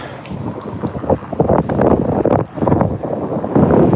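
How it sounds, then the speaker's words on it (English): Strong wind in Bathurst buffets the microphone in loud, gusty roaring bursts that rise and fall over several seconds. "Wow, it's windy."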